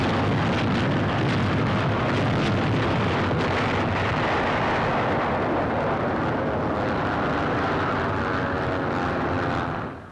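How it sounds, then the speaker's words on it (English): Dense, continuous roaring rumble with bursts and booms blending together, matching aerial bombing and explosions pounding a WWII invasion area in France, with aircraft drone mixed in, loud throughout and fading at the very end. "nearing the landings, the merciless pounding of the entire invasion area continues."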